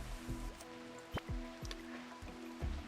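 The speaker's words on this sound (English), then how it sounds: "Especially since it's raining." Rain falls in the video game RimWorld, a soft, steady patter with scattered drips and brief tonal blips from the game, heard alone at low volume.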